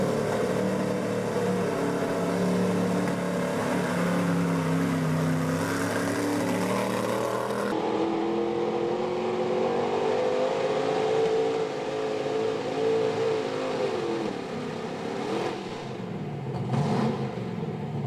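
A 1986 Ford truck that is running rough revs hard during a truck pull. The engine roars loud and continuous, its pitch rising and falling as it strains, and the tone shifts partway through.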